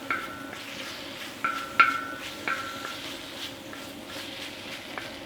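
A utensil scrapes and clinks against a plow-blade discada while cooked rice and onions are stirred and heated, with soft sizzling underneath and a few sharp metallic taps.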